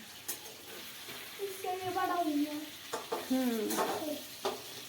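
Fish frying in a pan, a steady close sizzle with a few louder spits and stirring scrapes, while a voice talks over it at times.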